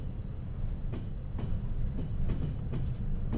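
A train braking in the Trans-Siberian Railway Simulator video game: a steady low rumble of rolling wheels with faint rhythmic rail clicks repeating through the whole stretch, no voices over it.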